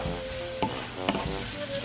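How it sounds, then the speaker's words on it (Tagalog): Garlic sizzles in hot oil while a spoon stirs it, a soft continuous frying crackle broken by a couple of light scraping clinks, with no one speaking. "I'm just gonna grab some spoon and saute until it's golden brown and"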